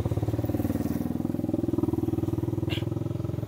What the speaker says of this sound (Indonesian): Ada motor lewat dari gitu, dari gitu.